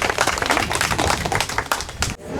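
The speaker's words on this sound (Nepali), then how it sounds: "खगेन्द्र न्युपानेज्यूलाई उहाँलाई एकचोटि जोरदार तालीले सम्मान गरिदिनु।" An audience gives a loud, enthusiastic round of hand clapping honouring a performer at a New Year event, dense, fast and continuous before cutting off abruptly near the end.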